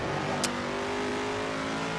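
A Corvette engine in the GT Legends mod for Assetto Corsa hums steadily at Silverstone. The drone is loud and constant for two seconds, with one short sharp click near the start and no talking.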